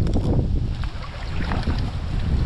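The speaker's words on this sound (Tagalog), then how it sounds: "Mahangin." Steady wind gusts by a river rumble and buffet the microphone outdoors, a continuous low roar with no talking.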